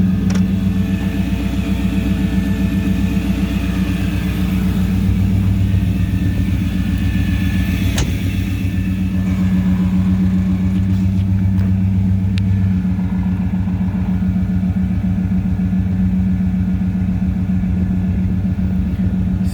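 Air ride suspension on a 1937 Ford Coupe raising to driving height, a steady low compressor hum with a constant tonal drone running close and unbroken throughout.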